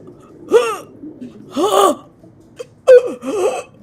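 A person imitates a gasp while clutching their chest, producing several sharp, loud breathy gasps and strained moans separated by brief pauses.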